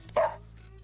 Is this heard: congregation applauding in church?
no